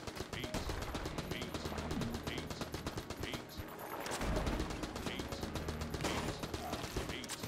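AK assault rifle fire in the video game Enter the Gungeon, with rapid rhythmic shots repeating throughout over busy game music and effects.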